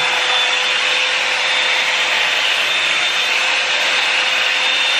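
A Revlon One Step hair dryer runs on its highest setting, a loud, steady broadband whoosh with a thin constant whine, unbroken for the full stretch and with no voices.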